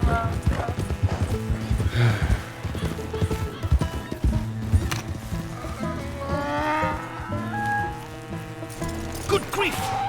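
Donkey hooves clip-clop in Red Dead Redemption 2, a steady rhythmic trot of moderate loudness running under game music and voices talking.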